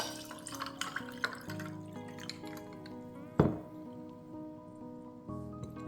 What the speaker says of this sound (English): And then we're going to add some cold water.